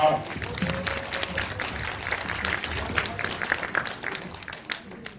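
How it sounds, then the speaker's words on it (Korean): Audience applause before a student presentation, a brief, moderately loud burst of clapping that fades out while a voice speaks over it. "큰 박수 부탁드리겠습니다."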